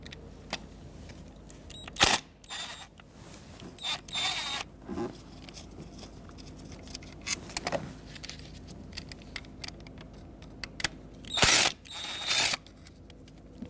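Bolts being removed from a neutral safety switch on a 2000-2007 Ford Taurus with an 8mm socket, heard as scattered close metallic clicks, ratcheting and tool handling, with brief sharp clanks and rustles between quieter stretches.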